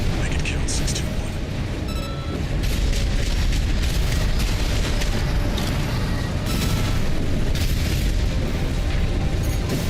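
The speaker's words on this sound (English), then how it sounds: "Use your mobility in the air to get clear of explosions." Missile explosions in the mech combat video game Armored Core 6 rumble in dense, continuous booms and bursts, loud and crowded, with a voice talking over the blasts.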